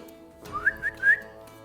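A person whistles a short, rising tune of a few notes, clear and moderately close against a quiet background.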